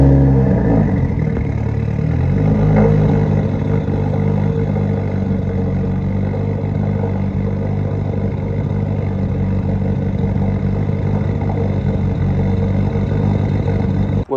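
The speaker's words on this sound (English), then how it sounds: "the cold start was running a little weird after installing the intake and all the aftermarket parts" A Subaru WRX with an aftermarket intake and other aftermarket parts runs after a cold start, its engine idling loudly and close with a continuous low, rough rumble and no talking.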